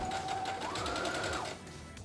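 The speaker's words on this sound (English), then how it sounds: "mark and then sew in each side of the dress." A sewing machine stitches the side seams of a dress, its fast, even mechanical whir running steady and close for about a second and a half before easing off, with no voices.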